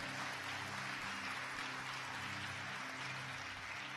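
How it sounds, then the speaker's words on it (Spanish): A church congregation applauds during an evening worship service, a dense, continuous wash of clapping from many hands, steady and fairly distant, with no clear voices on top. "Dale una ofrenda de palmas, pero con todas sus fuerzas, hermano, con todas sus fuerzas."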